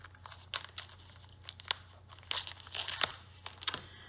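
Irregular bursts of crinkling and ripping, close by, as a cardboard package is torn open by hand in several short pulls.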